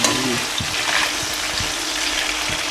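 Tangra fish frying in oil in a pan gives off a continuous, fairly loud crackling hiss with scattered soft low thumps, all close by and steady.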